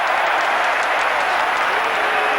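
Crowd at a 1986 Australian football match between Fitzroy and Hawthorn applauding Dermott Brereton, a dense, loud, continuous roar of clapping from a large stadium crowd.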